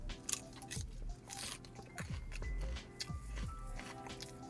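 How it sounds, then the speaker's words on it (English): Someone bites and chews a fresh vegetable salad with macadamia nuts, giving close, wet crunches in several separate bites with quiet mouth sounds between them. "And you hear the crunch from the vegetables."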